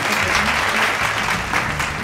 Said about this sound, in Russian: Все аплодируем. Аплодируем.